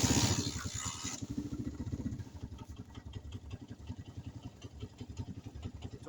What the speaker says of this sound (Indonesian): Saya coba starter ya.